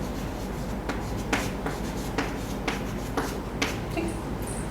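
Chalk or marker strokes scratch across a board during a maths lesson on integration, a rhythmic series of short scrapes and taps, fairly close and steady, with no voice over them.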